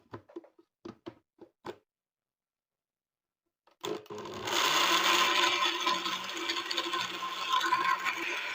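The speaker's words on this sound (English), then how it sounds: "blend everything into a smooth pulp" A few short clicks and knocks, a pause of silence, then a blender starts up and whirs loudly and steadily, grinding cashew fruit pulp close by.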